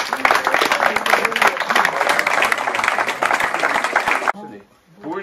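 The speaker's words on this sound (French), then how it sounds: "Vous pouvez vous applaudir, franchement, merci à vous." A crowd applauds loudly and steadily for about four seconds, a dense wash of clapping that stops abruptly, followed by a brief voice.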